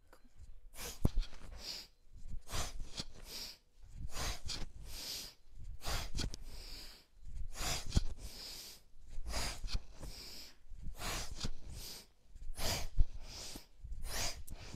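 Rapid, forceful nasal breath-of-fire breathing during a yoga flow: a long run of sharp, evenly spaced exhalation bursts in repeated sets with short pauses between them, close and fairly loud, with no talking.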